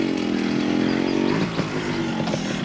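A motorcycle engine runs close by with a steady, buzzing drone, then its tone shifts and becomes rougher partway through, with no voices over it.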